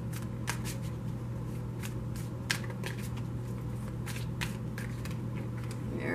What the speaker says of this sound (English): I'm only going to shuffle them for a moment.